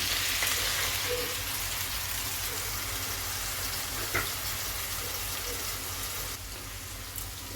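A spice paste of chilli, cumin and turmeric powder, grated ginger and sugar mixed with water is poured into a hot pan for a vegetarian papaya, squash and potato curry. It gives a steady, even sizzling hiss with one brief click partway through.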